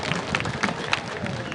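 A crowd applauding at Gusii stadium during a Shabana FC homecoming, a scattered ripple of claps with a few sharper bursts, moderately loud and continuous.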